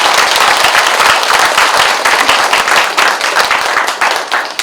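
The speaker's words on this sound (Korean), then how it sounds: "공약을 발표해 주신 최종태 후보께도 여러분 박수 부탁드리겠습니다" Applause from a township candidate-debate audience in Sabuk, Jeongseon, for a county-head candidate. Dense, loud clapping from a full room, steady throughout.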